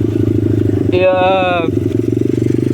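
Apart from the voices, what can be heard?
SkyTeam 49 cc engine running on a Dax motorbike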